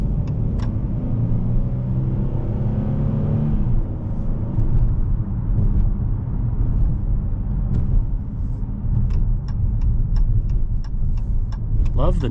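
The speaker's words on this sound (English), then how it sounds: "Love the noises this Challenger makes." A 2023 Dodge Challenger GT drives along, its engine a steady close rumble with a shift in tone partway through, over continuous road noise and a run of light clicks near the end.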